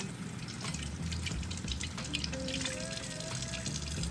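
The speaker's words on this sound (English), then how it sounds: "so we're gonna rinse that salt off. Make sure you rinse it good." Salted eggplant rinsed under a running kitchen tap, a close, steady splash and gurgle of water with drips and light handling in the sink.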